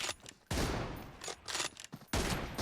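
Rapid bursts of gunfire in a 1v1 arena match of the mobile shooter PUBG Mobile, with several loud, close volleys separated by brief pauses, and no speech.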